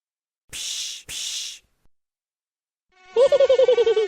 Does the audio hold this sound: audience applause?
no